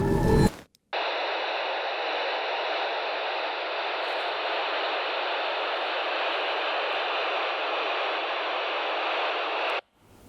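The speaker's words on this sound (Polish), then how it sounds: "Ja odpalę teraz radio." A brief loud burst, then a short silence, then constant hissing radio static for about nine seconds while scanning along a road, before cutting off abruptly.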